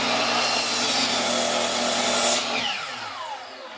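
Power saw cutting through a wooden board for a shaving horse, a loud close whine with a high bright tone for about two seconds, then the blade winds down and fades out. No one speaks.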